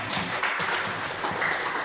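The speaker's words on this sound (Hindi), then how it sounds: "शानदार ताली होनी चाहिए इसके लिए।" An audience at a health awareness program claps in a steady, dense round of applause that fills the whole moment at even volume.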